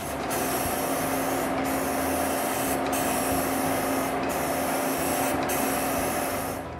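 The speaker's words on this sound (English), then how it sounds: "spray the second coat" A steady hiss of lacquer sprayed from an aerosol onto a wooden intarsia piece, running continuously with a few very brief breaks, close and fairly loud.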